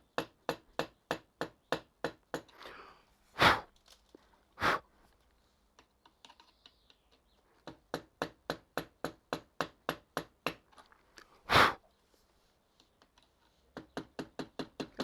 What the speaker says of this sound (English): I'm just going to give it a whack with a screwdriver handle